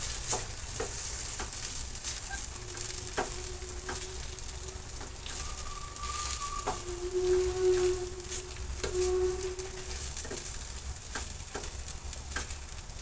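Chopped onions sautéing with salt in a pan for Kolhapuri-style kanda poha, a steady close sizzle with occasional stirring scrapes and faint tonal hums from the kitchen.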